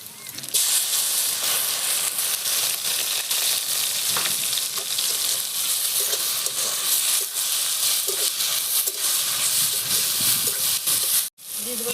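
Chopped tomatoes hiss and sizzle loudly as they hit a pan of fried onion, garlic and ginger, a dense continuous frying roar that cuts out briefly near the end.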